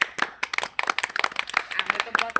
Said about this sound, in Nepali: सबले ताली हान्ने ताली ताली